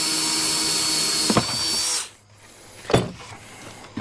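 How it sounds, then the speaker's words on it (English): A power drill bores a 1-inch hole through a plastic bucket for a DIY chicken-tractor watering system, a steady loud whine for about two seconds, then stopping, followed by a couple of sharp knocks. "I'm going to drill this hole"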